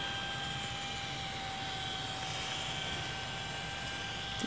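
Cooling fan on an Auxbeam F-S2 H11 LED headlight bulb in a 2015+ Subaru WRX, a steady close whirring hum with a faint high tone, running alone throughout.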